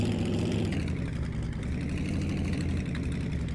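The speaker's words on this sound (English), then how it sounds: "Okay, this car is super loud." A car idles loudly and steadily in Car Dealer Simulator, its deep engine drone continuous and close with no talk over it.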